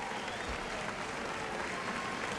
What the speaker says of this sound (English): let's give Governor Clinton a big round of applause